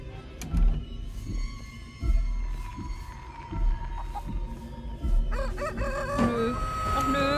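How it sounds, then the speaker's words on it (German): A chicken crows repeatedly outdoors, several rhythmic cock-a-doodle calls rising above a low hum and thumping handling noise, moderately close, with no talk. "Noch da ist dieses blöde Huhn."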